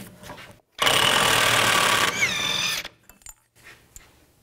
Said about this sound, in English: Take the axle nut off. Use a 36 millimeter socket.